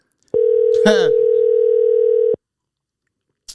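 A steady telephone tone sounds loud and clear for about two seconds while an outgoing call is placed. A brief burst of voice cuts across it near the start, then the tone stops abruptly into silence.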